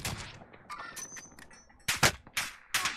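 Gunfire in the battle royale game Call of Duty: Warzone, with three sharp, loud shots standing out near the end over a busy background of quieter game noise.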